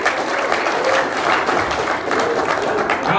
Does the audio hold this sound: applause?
yes